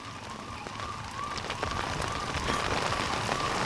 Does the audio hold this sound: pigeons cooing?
no